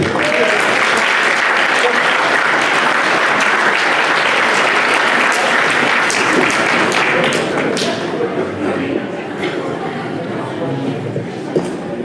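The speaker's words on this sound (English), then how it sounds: "Please stand up and take a big clap, please." Audience applause for a city councilman at a Filipino American History Month celebration in Vallejo, California: dense, loud clapping from a large crowd fills the room, holding steady for about eight seconds before thinning and tapering off.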